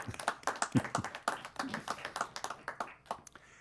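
A small group at a city council meeting claps in sparse, uneven bursts. The individual hand claps are distinct and fairly faint, and they thin out toward the end.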